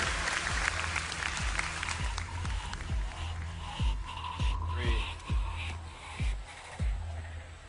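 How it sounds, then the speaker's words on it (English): Audience applause at BlizzCon 2010 after a Diablo 3 Q&A session: a large crowd claps continuously, with sharp rhythmic accents standing out near the front and a dense wash of clapping behind. "Everybody give them a round of applause"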